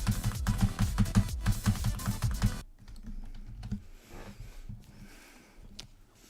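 Rapid computer keyboard keys click hard and rhythmically during rhythm game play, a dense run of loud taps for over two seconds, then quieter scattered clicks and breathing.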